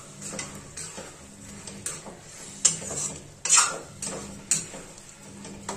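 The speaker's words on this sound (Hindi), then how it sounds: "चावल को भी जरा फ्राई कर देंगे मसाले में" Rice being fried and stirred into spices for a Bihari-style tahari, a spoon scraping and clinking against the pan in irregular strokes over a soft low sizzle, close by.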